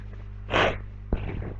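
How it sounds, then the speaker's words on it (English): Two short, sharp nasal inhales, like sniffles, close to the mic over a low steady hum, separated by a brief pause. "Excuse my sniffles."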